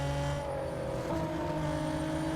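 Race cars in the Real Racing 3 video game run in a steady, continuous engine drone with shifting pitch, loud and constant throughout, with no talking.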